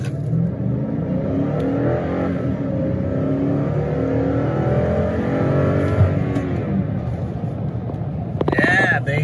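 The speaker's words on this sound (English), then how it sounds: "right here, we're gonna insert a nice 0-60 test" A 2008 Toyota Sequoia accelerating hard in a 0-60 run, its engine droning and climbing steadily in pitch under loud, continuous road and wind noise inside the cabin.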